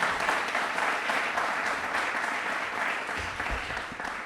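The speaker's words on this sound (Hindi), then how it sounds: "एक बार तालियां भी जोरदार हो जाए इनके लिए" A studio audience claps loudly and steadily for a contestant at a Republic Day quiz show, the applause easing slightly toward the end.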